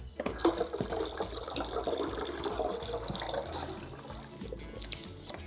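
Water from a Sawyer Squeeze filter running into a test bottle, a soft irregular trickle and splash with small gurgles, fairly quiet and close, no talking.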